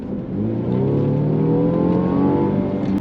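A Mercedes-Benz E300 Coupé (C238) accelerates hard on kickdown, its engine note climbing steadily in a smooth, loud rising drone inside the cabin for about three seconds.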